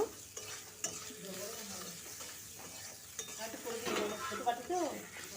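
Kashmiri chilli powder is stirred into a frying cauliflower and prawn curry, a quiet sizzle of oil beneath scraping and clinking of a spoon against the pan, with sporadic louder scrapes.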